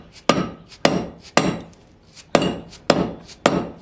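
A hammer smacking a car's wheel hub knuckle assembly during a wheel bearing job, six sharp ringing metallic blows at a steady rhythm, loud and close with no talk.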